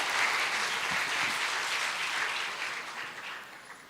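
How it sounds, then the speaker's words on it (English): Audience applause at the Falling Walls Lab Indonesia 2024 event as a presenter is invited to the stage, steady clapping from a sizeable crowd that gradually fades. "please give a round of applause for Mr."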